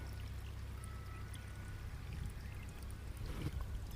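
Steady rushing irrigation water pours into a farm field and gurgles continuously outdoors, a constant low splashing flow with a slight surge near the end.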